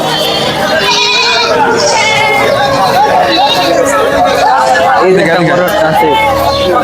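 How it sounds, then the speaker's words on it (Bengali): Goats bleat over and over at a crowded livestock market, several calls overlapping amid loud chatter and crowd babble, with people talking close by. "অনেক বড় ছাগল"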